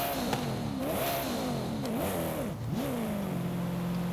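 Koenigsegg One:1 in Forza Horizon 5 accelerating hard, its engine note climbing and dipping through gear changes before settling into a steady, sustained drone, loud and continuous throughout with no talking.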